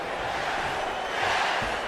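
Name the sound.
crowd cheering in video game WWE 2K25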